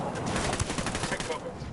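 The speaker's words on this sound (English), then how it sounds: "That's a minigun." Minigun fire in the video game Ghost Recon Wildlands: a dense, continuous rattle of rapid shots running for the whole stretch at steady loudness, with no clear gaps between rounds.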